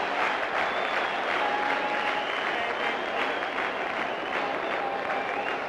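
A large cricket crowd at Gaddafi Stadium cheers and applauds after a run of big sixes during a 1996 World Cup match, a dense, sustained roar of clapping and voices with no break.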